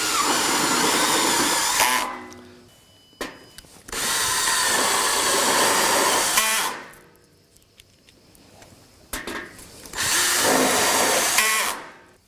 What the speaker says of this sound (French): Et je peux maintenant visser directement, toujours avec 4 vis à chaque jonction.